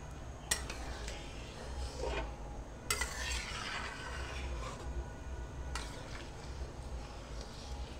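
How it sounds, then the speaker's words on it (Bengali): A spoon scrapes and clinks against a pot of Gobindobhog rice khichuri with potato and pumpkin, several sharp metallic knocks and stirring rubs spaced irregularly over a quiet background. "এখন জাস্ট একটু নাড়িয়ে নিচ্ছে মা।"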